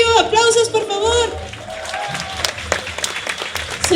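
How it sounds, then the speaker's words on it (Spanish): An audience at a science and maths festival applauds a prize winner. A voice speaks first, then brisk, dense clapping fills the room and carries on to the end. "Aplausos, por favor."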